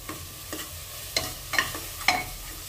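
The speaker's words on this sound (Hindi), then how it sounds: "इसको अच्छा मसाला भुन गया है हमारा।" Masala of chopped tomato, green chili and kasuri methi frying in a pan, a steady sizzle broken by five or six scraping stirs of a spoon at irregular intervals, close and alone without talk.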